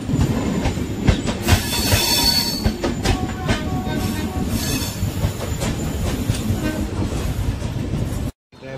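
A train rolls through New Delhi railway station, close and loud, its wheels clattering and squealing over the tracks. The sound holds steady, then cuts off abruptly at the end.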